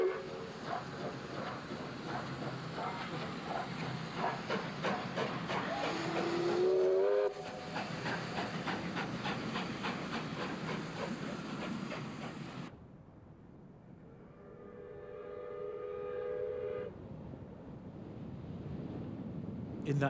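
South Australian steam locomotive 621, running with a second locomotive in 1994, rumbles loudly with a rhythmic chuff and clatter of wheels and a brief whistle, then fades to a more distant rolling hum.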